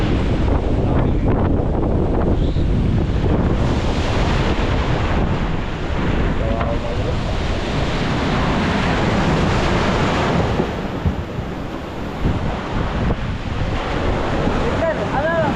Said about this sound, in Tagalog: malaki pa ang dagat o pababa na?